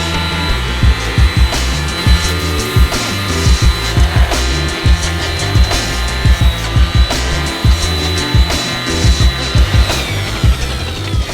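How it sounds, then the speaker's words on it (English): A power sander hums steadily while smoothing the ends of wooden staircase pieces during a renovation. Sharp knocks repeat at a regular rhythm on top of it, close and loud, with no talk. "I'm gonna go ahead and do a quick sanding on these ends just to smooth out the edges"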